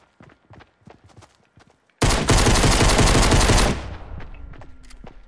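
Pistol gunfire in a video game: a sharp, loud, densely packed burst of shots lasting under two seconds, preceded by soft scattered footstep-like taps and followed by quiet ringing.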